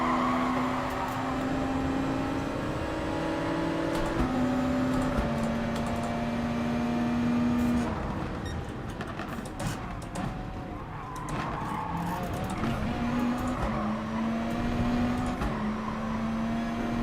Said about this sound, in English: All you can hear is the RX, even though I'm nowhere near the car.